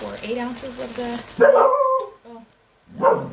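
A dog barks loudly and close by in two bursts, breaking in over a person talking indoors.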